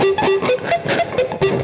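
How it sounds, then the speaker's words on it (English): Muted guitar strings give a quick run of soft percussive clicks, evenly spaced in a down-down-down, up-up-up picking motion, close and dry, with a faint tone behind. "just to mute the strings out and try to see if you can get 6 continuous clicks,"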